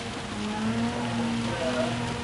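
Rain in the Gran Turismo 7 racing game, a steady wash of rainfall mixed with a droning car engine tone, continuous and fairly even throughout.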